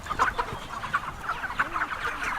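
Free-range chickens clucking inside a Staffordshire poultry shed, a busy overlapping chorus of many birds that keeps up steadily and fairly close throughout.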